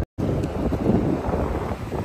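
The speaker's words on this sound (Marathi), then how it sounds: "कसला वारा येतोय आणि कसला पाऊस पण येणार आहे आता" Strong gusty wind at Sagreshwar beach in Vengurla, Konkan coast, roars into the microphone as a loud, continuous buffeting rumble with rain approaching, with no talking.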